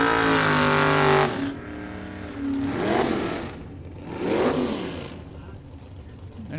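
Drag racing cars, one a 1970 Monte Carlo, roar loudly at the line for about a second, then fade to a distant drone with two swelling engine passes, while a commentator talks throughout.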